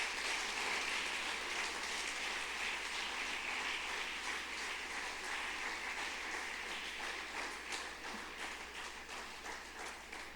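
A church congregation applauds during a sermon, a soft, rain-like patter of many hands over a low steady hum, continuous and fairly distant.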